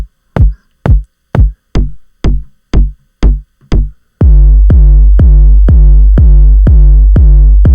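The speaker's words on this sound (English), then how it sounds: "these are typical synth-sounding drums" Synth drums sequenced in a DAW play a steady, evenly spaced pattern of punchy electronic hits, first sparse clicky thumps with gaps, then a denser run of tonal, sustained booming hits, loud and close with nothing else.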